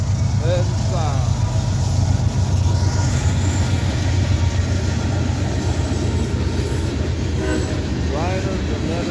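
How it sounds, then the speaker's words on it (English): A freight train rolls past close by through Abbeville with a heavy continuous rumble and grinding wheels, with faint voices and a brief squeal mixed in. "we got a train coming out of the north."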